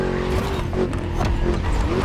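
A V8 engine in the racing game The Crew Motorfest snarls loudly and continuously at close range, its deep, rumbling growl holding steady and surging slightly as the car races along.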